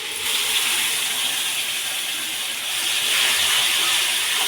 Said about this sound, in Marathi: आता ह्याच्यामध्ये मी टॅमॅटोची प्युरी टाकते.